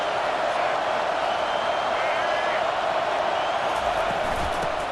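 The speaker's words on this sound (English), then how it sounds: "This crowd rising up, sensing that its defense needs some help." A football stadium crowd at a college game against UNLV roars in a steady, dense wall of cheering, loud and continuous throughout with no individual voices standing out.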